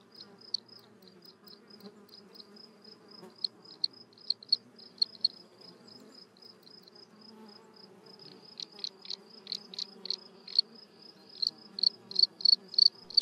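A field cricket chirps in a high, pulsed trill, sparse at first and then growing louder and more regular toward the end, over a faint low background hum.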